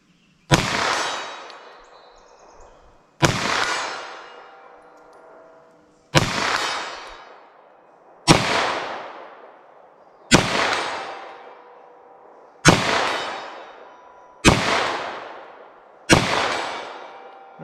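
Eight sharp 9mm+P Gold Dot gunshots are fired at a windshield from 75 yards in an outdoor range. Each loud crack is followed by a fading ring, with the shots spaced about two seconds apart.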